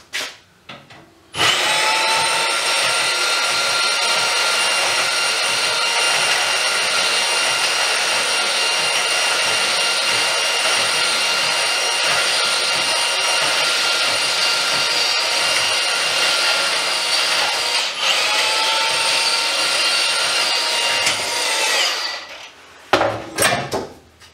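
A Milwaukee hacksaw cuts through scrap aluminum from a dumpster find, a steady close, loud rasping drone running almost unbroken for about twenty seconds with one brief hitch partway through, then stopping.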